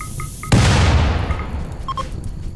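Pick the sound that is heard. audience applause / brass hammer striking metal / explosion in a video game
explosion in a video game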